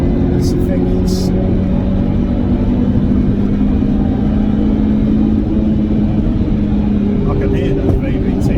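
A Toyota Celica VVTi engine drones steadily while the car is driven, a loud continuous rumble with sustained tones heard from inside the cabin, with voices talking over it.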